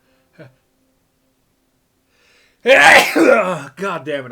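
A single sharp sneeze bursts out close and loud after a near-silent pause, followed at once by a person speaking.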